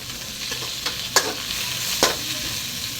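Chopped coriander sizzles in a hot pan while a utensil stirs and scrapes, with a few sharp clanks against the pan's side.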